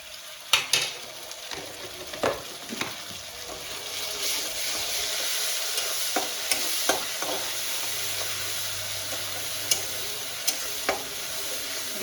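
Ginger-garlic paste fries in a pan after turmeric, a steady soft sizzle with scattered clicks and scrapes of stirring throughout, close and moderate in level.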